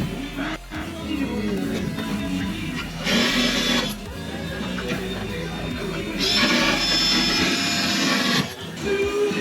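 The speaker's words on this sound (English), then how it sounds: "That drill is so dull it won't even go in." A power drill with a dull bit whines in bursts against a roof, several loud runs separated by short pauses, close by.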